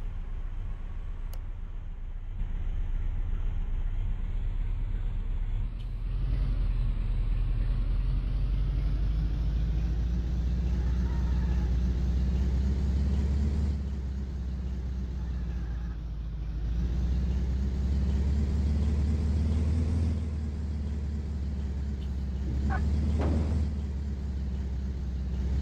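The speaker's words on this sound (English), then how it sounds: "Sounds like part of my truck's falling off." Heavy truck in the police, fire and EMS game Flashing Lights, a steady loud low rumble of engine and road noise with a rattling texture, swelling and easing across the drive, with no voices.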